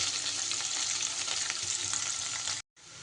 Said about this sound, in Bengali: একটু লাল লাল করে কিন্তু ভেজে নিতে হবে